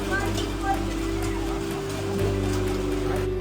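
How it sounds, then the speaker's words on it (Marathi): Steady rain patters on a surface throughout, a dense hiss with a low rumble beneath, while a voice talks over it. "आणि इथं पाऊस बघू शकता"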